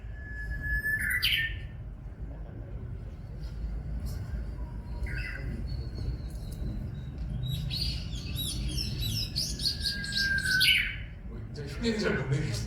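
Wild birds sing in an outdoor setting, with repeated bright, clear whistled phrases and chirps spread across the stretch, some nearer and louder, over a steady low background hum.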